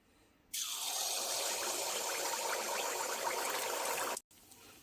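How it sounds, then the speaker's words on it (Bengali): A ladle of pitha batter drops into oil heated on high, setting off a sudden loud, close sizzle that holds steady for about four seconds. "এরপর তেলের মধ্যে দিয়ে দিচ্ছি এক হাতা পরিমাণ তৈরি করে রাখা ব্যাটার"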